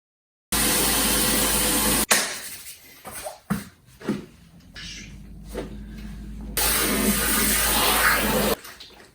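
Knee sleeves being hand-washed in water with hand soap: a steady rush of running water, then a stretch of irregular splashing and sloshing bursts before the steady water noise returns.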